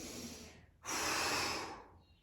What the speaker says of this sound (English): Breathe out. Breathe in.